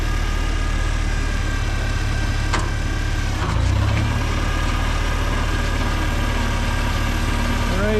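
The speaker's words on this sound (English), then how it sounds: "I'm gonna run the tractor back through the furrow" Tractor engine running steadily through a garden furrow while working fertilizer into the soil, a loud, close, continuous low rumble with a brief louder surge near the middle.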